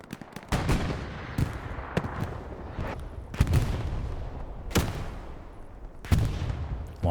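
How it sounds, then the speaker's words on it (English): Long-range rockets fire on the Kursk map in Hell Let Loose, a string of heavy, booming launches and distant blasts at irregular intervals across a rumbling battlefield. "Long-range rockets being fired."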